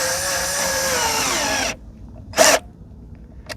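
A small power drill whirs steadily for under two seconds while assembling a wedge end table, then stops, followed by a couple of short clicks and a brief rustle.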